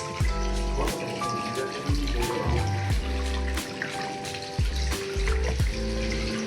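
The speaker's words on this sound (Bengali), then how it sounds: "এই জলটা পড়ছে" Ice-cold water pours and splashes steadily at a snow-fed waterfall on the Bomdila to Dirang route, a continuous rushing flow close by with no talking.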